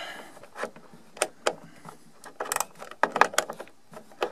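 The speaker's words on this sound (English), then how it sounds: "once you've loosened the screws, they come out pretty easily. You can just use the socket and take them out." Small metal clicks and scrapes as a 7mm socket backs screws out of a door cover on a BMW E36, scattered short taps and rattles at close range with no talking.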